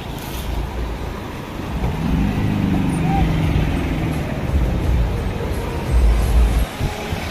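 A police vehicle passes along a flood-swollen road near a bridge, a low engine rumble swelling and fading under crowd voices and chatter, with heavy low-end bursts near the end.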